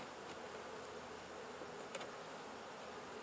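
Honeybees hum in a dense, even drone around an open hive frame being lifted out during an inspection in Swanzey, New Hampshire, quiet and continuous with no talking.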